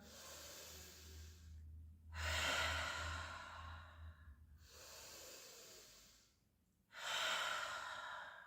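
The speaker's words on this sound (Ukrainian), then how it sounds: "Видих через рот. Або ха, або як свістулька." Three long breathy exhalations through the mouth during a breathing exercise, each lasting about two seconds and separated by short pauses, close and fairly soft over a faint low hum.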